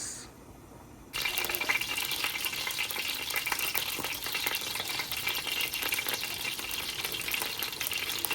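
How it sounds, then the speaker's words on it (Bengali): Fish fries in a pan with a sudden loud hiss that starts about a second in, then settles into a dense, steady sizzle and crackle close by, with no talk over it. "সামান মাছটা ভাজা বসাই দিলাম"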